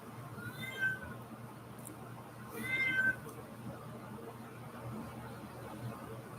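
Nearby cats meowing outdoors, two separate drawn-out meows a couple of seconds apart, moderately close, over a quiet background hum.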